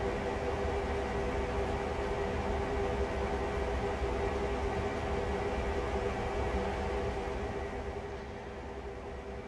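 A train reversing toward cars at Oak Point Yard on the Northeast Corridor in the Train Sim World video game: a steady, dense mechanical rumble and hiss, unchanging and fairly loud, with no talking.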